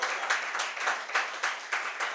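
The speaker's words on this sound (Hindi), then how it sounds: "एक बार जोरदार तालियां" Applause at a book launch, a modest crowd clapping in a brisk, even patter that stays level, fairly quiet and heard alone.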